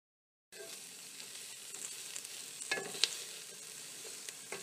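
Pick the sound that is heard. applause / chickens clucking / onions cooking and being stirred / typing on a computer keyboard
onions cooking and being stirred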